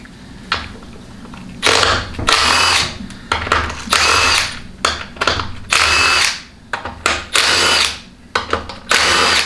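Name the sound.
power tool removing TH400 transmission valve body bolts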